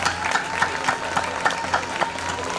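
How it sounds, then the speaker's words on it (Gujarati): An audience applauds the volunteers of an education programme event, with a crowd clapping in a loose rhythmic pulse at moderate loudness and some voices mixed in. "આ પ્રોગ્રામના વોલેન્ટિયર છે એના માટે એક જોરદાર તાળીયા થઈ જાય"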